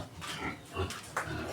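A pig grunts and squeals in a few short bursts at close range during farm preparations before New Year, brief and rough-edged.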